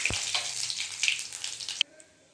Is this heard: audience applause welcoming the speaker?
no